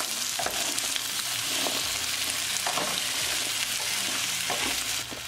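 Taro root and peas frying in a pan with green chili, giving a constant close sizzle broken by several scraping stirs of a spatula, with no speech.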